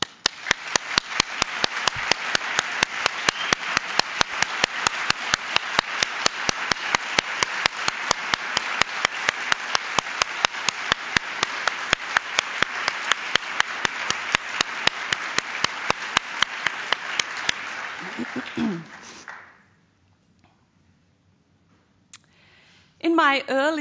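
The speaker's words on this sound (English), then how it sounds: "If you would please stand so that we can applause." An audience applauds at a presidential address, a sustained wash of clapping with sharp individual claps for about nineteen seconds. It then stops abruptly, leaving near silence.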